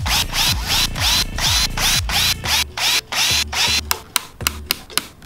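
A power drill drives screws while a Soundigital EVOX car amplifier is installed, giving a run of close, loud, whirring bursts that stop and start in a steady rhythm and end with sharper, clicking pulses.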